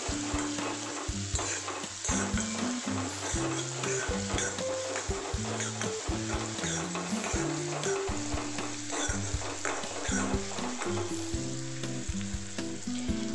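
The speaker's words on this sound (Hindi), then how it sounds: "प्याज को थोड़ा नरम होने तक हम लोग इसको भूनेंगे तेल में" Chopped onion frying in hot oil with asafoetida for a potato-tomato sabzi, a steady close sizzle with occasional stirring scrapes in the pan, running alone throughout.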